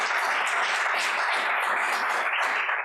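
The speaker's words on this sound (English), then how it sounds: "give them a round of applause" Audience applause at a poetry recitation championship, a steady dense wash of clapping hands held at an even level for the whole stretch, with no talk over it.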